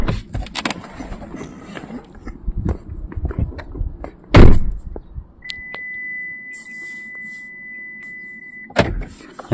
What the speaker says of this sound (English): This is how you lock the car.